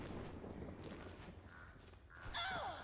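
A single harsh raven caw rings out near the end, preceded by a quieter call, over a low rumbling background, in the video game Metal Gear Solid 4: Guns of the Patriots.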